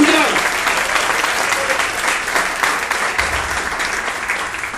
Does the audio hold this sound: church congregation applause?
yes